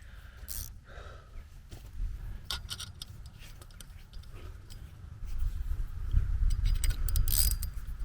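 Metal fitting being tightened on a guy wire of a 40 ft tower, close-up scraping, clicking and ratcheting mechanical sounds in irregular bursts, with a low rumble growing toward the end.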